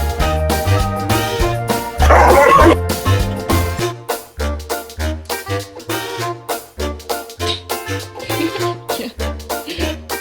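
A dog yipping and whimpering in rhythmic bursts over a steady background music beat, loud and close.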